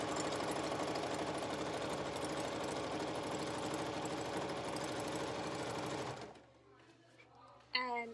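A sewing machine fitted with a walking foot quilts wavy lines through a quilt, running with a steady, close mechanical whir for about six seconds before stopping, followed by quiet handling noise and a brief sound near the end.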